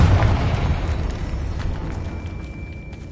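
Confringo blasting curse explosion in the video game Hogwarts Legacy, a loud deep boom that hits at once and then rumbles and crackles as it slowly fades, with a thin high tone lingering in the tail and no speech.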